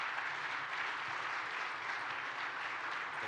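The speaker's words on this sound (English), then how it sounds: "Let's give James a big round of applause." Steady, fairly faint applause from a conference audience, an even wash of clapping with no talk over it.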